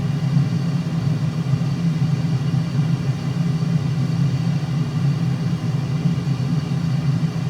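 An F-35 jet engine in Microsoft Flight Simulator gives a steady, low, continuous rumble with an even roar that holds unchanged throughout.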